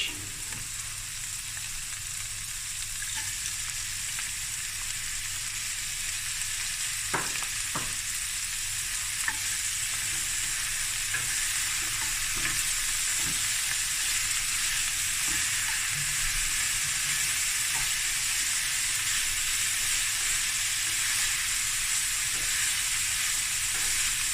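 Sausage fried rice with mixed vegetables is stir-fried in a pan under a loud, steady sizzle and hiss, with occasional scrapes and clinks of the utensil.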